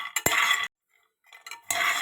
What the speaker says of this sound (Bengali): এই দেখো, বাদাম এইভাবে আর কি নাড়তে হবে